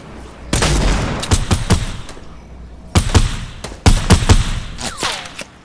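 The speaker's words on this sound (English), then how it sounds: "Ooh, snipers." Rapid bursts of gunfire crack through a Fortnite match, loud, close shots arriving in several clustered volleys with short gaps between them and no speech over the top.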